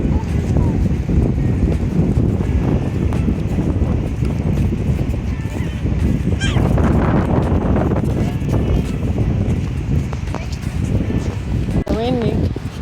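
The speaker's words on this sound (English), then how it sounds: "Windy." Wind buffets the microphone on a beach, a steady roar that fills the whole clip beneath talk, with a brief higher chirp near the end.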